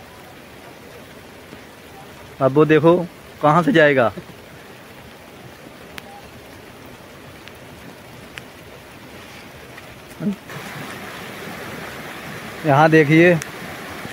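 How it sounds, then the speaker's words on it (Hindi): Fast-flowing rainwater rushing outdoors makes a steady broadband wash throughout, while someone speaks in short bursts over it. "बारिश का पानी कितनी तेजी से आ रहा है, देखो।"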